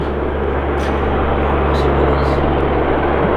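A helicopter passes overhead near an abandoned army site beside a prison, laying down a steady, loud, low engine drone with a rotor throb that holds for the whole stretch while voices murmur faintly underneath.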